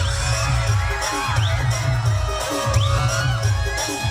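An audience at a school program cheers loudly and continuously, with whoops, high shouts and whistles rising over a dense crowd roar and a deep rumbling hum.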